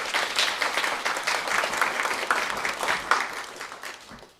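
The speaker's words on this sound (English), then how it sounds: "So yeah, give her some applause," Audience applause at an entertainment industry panel, steady dense clapping from a crowd lasting throughout, fairly loud and close with no talk over it.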